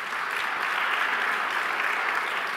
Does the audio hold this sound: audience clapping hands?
yes